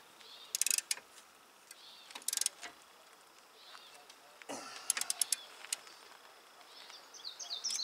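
A wrench tightening bolts on the front axle of a 1993 Jeep Cherokee outdoors, with bursts of quick metallic ratcheting clicks separated by pauses, close by, alongside light tool clinks and faint birdsong.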